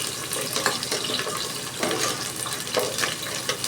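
Large onions saute in a pan for mushroom biryani, a steady close sizzle and crackle with irregular stirring scrapes on top.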